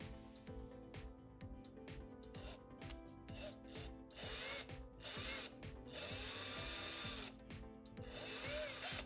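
A drill boring a hole through a broken wheel piece from an Aiper Smart robot pool vacuum, sounding as a steady whirring with repeated clicking and ratcheting bursts that swell louder toward the end, with no voices.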